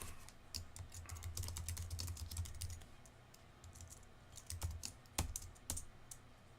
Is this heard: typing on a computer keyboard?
yes